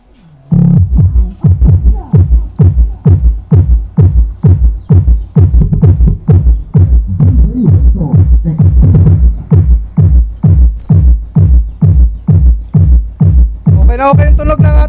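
Inverted speaker in an L-ported box pumping loud, deep bass in a steady throbbing pulse, each thump booming close and heavy, with a brighter burst near the end.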